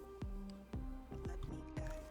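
Polishing compound being worked over the right side of a Honda Fit hood with an inexpensive AliExpress polisher, giving soft wet squishing strokes roughly every half second, low and steady with no talk.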